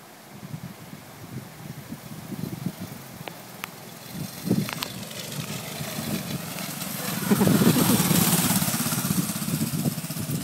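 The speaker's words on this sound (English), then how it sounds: "Mike Fitch riding Dave Corbett's mini bike after a little governor adjustment" A minibike's small engine runs after a governor adjustment, a steady buzzing putter that rises in revs toward the end, heard at moderate distance outdoors.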